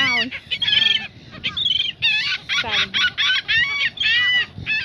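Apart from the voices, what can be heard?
seagulls squawking over thrown nuts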